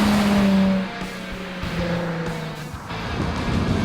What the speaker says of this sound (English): This exhaust note on the 350 is actually the most pleasing of all of these cars stock.